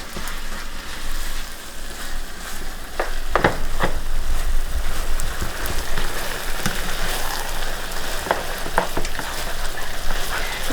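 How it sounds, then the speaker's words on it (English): Mixture with Italian seasoning sizzling in a pan while being stirred, a steady close crackling hiss with a few sharper scrapes and clinks of the spoon, no talk. "I'm going to mix this all up. And I'm going to let this marry in the pan for about 5 minutes."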